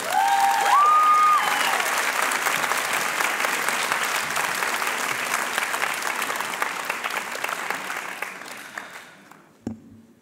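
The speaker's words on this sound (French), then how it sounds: "un torrent d'applaudissements pour Sira Diombana" A large audience at a high-school eloquence contest final bursts into dense, sustained applause for a young speaker, loud at first and slowly thinning before fading out near the end, with brief tones at the start.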